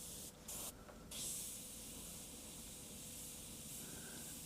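An airbrush sprays a very thinned paint mix at lowered pressure, a steady close hiss running throughout with a few brief pauses and surges near the start, no talking.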